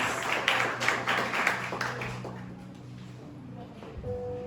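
A church congregation claps in loose, uneven rhythm at moderate distance, the applause thinning and fading out over a few seconds into a quiet room.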